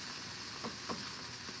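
Fish frying in oil on a Blackstone griddle, a steady broad hiss of sizzling with a couple of faint pops, quiet and continuous, no talk.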